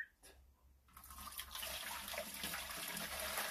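Water rushes steadily into a 15 litre Vevor ultrasonic cleaner tank, a brief hush and then a continuous broadband pour that holds at a moderate level close by, with no one talking.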